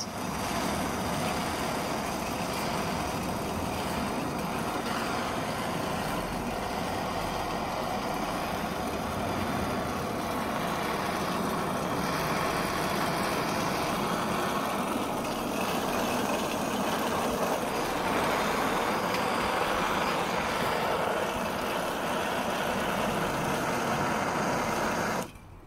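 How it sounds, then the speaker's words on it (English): Small homemade steam engine built from a Coke can runs with a steady, busy mechanical whir and hiss for the whole stretch, fairly faint and unbroken, stopping abruptly at the end. "And that is the steam engine."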